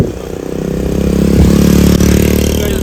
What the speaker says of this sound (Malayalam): ബൈക്ക് റാലിക്ക് റെഡിയായി